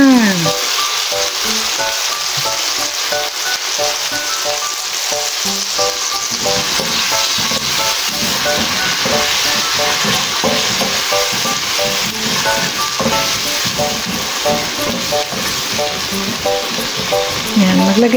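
Squash sautés loudly in a pan, a dense, even sizzle and crackle running continuously, close up, with occasional stirring and low background sounds.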